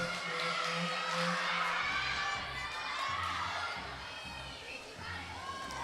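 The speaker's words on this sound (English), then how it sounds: "Her whole team, as you can see, cheering her on." A girls' varsity gymnastics team shouts and cheers on a teammate during her bar routine, a lively indoor crowd of young voices with chatter mixed in, steady throughout.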